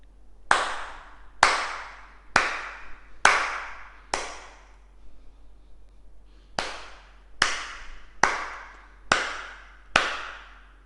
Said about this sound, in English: And this is how my clapping hands sound.